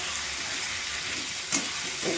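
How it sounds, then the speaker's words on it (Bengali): Salted spice paste fries in a pan with a steady broadband sizzle and hiss, broken by one short sharp clatter near the end and a soft stir afterward; no talking. "আর এখানে লবণ, আর এই যে মিক্সি ধোয়া জলটা দিয়ে দেবো, দিয়ে মশলাটা ভালো করে কষিয়ে নেব।"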